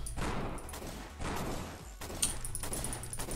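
Rapid bursts of video game gunfire fill a Roblox match, with dense overlapping shots coming in waves and brief lulls between them.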